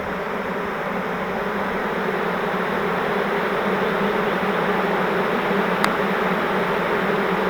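Honey bees fan their wings on the tops of frames at a swarm trap, making a steady, dense buzzing hum that holds close and even throughout, with no talk over it.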